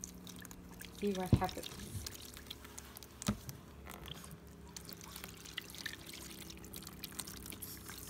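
Water is poured onto Kaleidofoam and powder in a short gurgling stream, followed by soft trickles and drips, with a person talking quietly over it.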